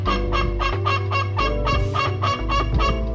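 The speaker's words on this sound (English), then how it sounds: "You might notice your hen gets much more vocal, learning how to sing the egg song." A laying hen sings the egg song, a loud, repeated run of squawking calls in an uneven rhythm, close by and with no talking.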